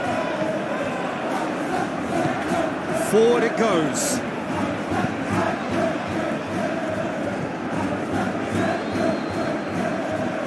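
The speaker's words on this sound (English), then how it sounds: "you can hear how the crowd are reacting to this too" Stadium crowd in the football game PES gives a constant roar that swells slightly at moments, under a commentator talking over the match.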